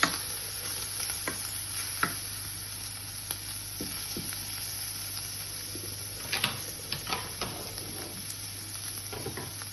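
Lurpak butter sizzles softly in a mixture in a pan, giving a faint, steady frying hiss with scattered clicks and scrapes of stirring, close and quiet, with no voices.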